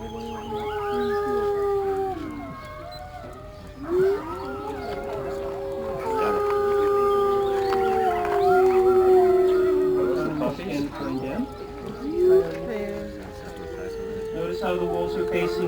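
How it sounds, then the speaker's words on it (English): A wolf howling at a wolf park, joined by other wolves in long overlapping wavering howls that rise and fall, loud and sustained with brief breaks, with people talking quietly underneath. "And of all the wolves, she seems to enjoy howling most."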